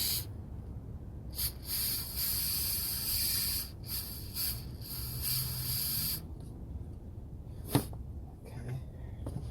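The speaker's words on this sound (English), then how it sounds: "I'll be using throttle body and intake cleaner" Aerosol throttle body and intake cleaner sprayed onto a removed car EGR valve, several hissing bursts of varying length over the first six seconds, close by, followed by a sharp click and faint handling noises.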